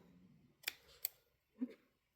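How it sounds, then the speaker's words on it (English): Oversized scissors snip beading thread with two quick, faint, sharp clicks close by, followed by a soft dull tap, in an otherwise quiet setting. "I'm going to take my oversized scissors and I'm going to cut it off"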